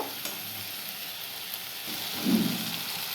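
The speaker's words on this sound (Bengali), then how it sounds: "দেখছো ভালো করে কষাচ্ছি" Green peas sautéing in a pan for a Bengali home-cooked meal, a soft steady sizzle with a brief louder stir-and-sizzle burst near the end, no voices.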